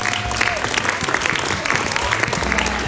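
Dense, steady applause from a seminar audience at a talk on obesity and diet, sustained clapping filling the whole stretch with no pause, fairly close and loud.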